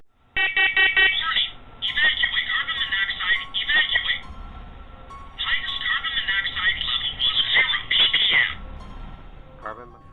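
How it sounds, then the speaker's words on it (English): A faulty smoke alarm goes off by itself, giving a loud, shrill, pulsing electronic beep in long repeated bursts. It stops briefly partway through, then sounds again before cutting out near the end. "as soon as David starts talking about the smoke alarm again, it goes off on its own for a second time"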